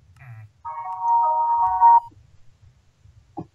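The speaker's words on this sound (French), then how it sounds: "C'était quoi ça? C'était mon téléphone." A mobile phone rings with a single sustained electronic tone lasting over a second, clear and close in an otherwise quiet scene, followed by a brief click.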